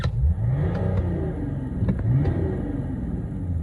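A BMW 330d diesel engine revved at idle, a steady close rumble that swells briefly with each blip of the throttle, with light mechanical clicks and no talking.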